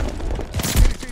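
Shotgun fire in the online match of Call of Duty Vanguard, loud close blasts with a heavy thump near the end amid busy game noise.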